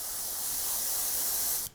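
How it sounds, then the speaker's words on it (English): A short test burst from a spray can of gray paint mixture: one steady, close hiss lasting under two seconds that cuts off abruptly. "First do a little test spray on the..."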